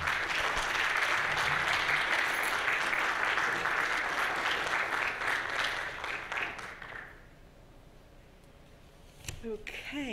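An audience claps steadily and warmly for a lecture guest, Dr. Hasia Diner, then the applause tapers off into near quiet with a few faint sounds at the end.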